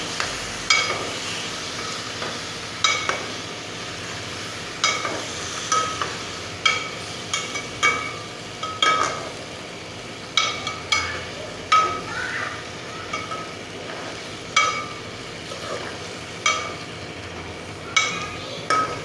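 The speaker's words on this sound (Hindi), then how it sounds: "इसको मसाले में अच्छी तरह मिक्स करके" Potatoes being stirred into masala in a cooking pot, a metal spoon scraping and knocking against the pan in a steady repeated rhythm, close and clear, over a faint sizzle with no talking.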